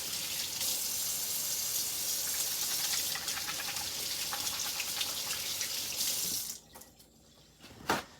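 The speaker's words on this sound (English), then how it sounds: "Wash my hands." Water running from a kitchen tap while hands are washed, a steady close splashing stream that stops near the end, followed by a few faint drips and a brief clatter.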